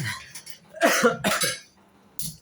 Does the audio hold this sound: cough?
yes